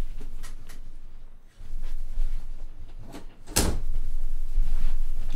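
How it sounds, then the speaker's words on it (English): A door is shut with a single sharp thump in the middle, standing out from a steady background of game noise and room sound. "I had to shut my door."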